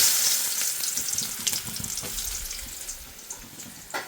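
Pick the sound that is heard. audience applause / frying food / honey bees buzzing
frying food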